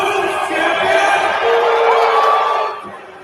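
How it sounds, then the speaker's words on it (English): Arena crowd at an AEW Dynamite taping booing loudly as a wrestler named Monet is introduced, a sustained massed jeer with long drawn-out voices that holds steady and then fades toward the end. "He's introducing her and they're booing her."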